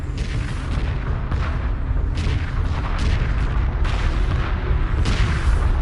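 A space battle in Homeworld 2 Remastered erupts with repeated heavy booms and bursts of weapon fire over a dense rumbling bed, loud and continuous with several sharp blasts.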